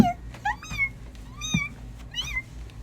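A house cat meows repeatedly indoors, several short rising and falling cries spaced across the moment, close and clear over a low background hum.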